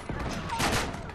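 Gunfire from an Uncharted 3 online multiplayer match, a short, dense burst of shots filling about a second, heard close and loud with game noise around it.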